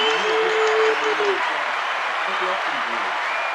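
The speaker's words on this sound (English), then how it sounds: "Can we give Ivory a round of applause?" Audience giving a round of applause for a returning guest, a broad steady wash of clapping and crowd noise with a voice speaking or calling out over the first second.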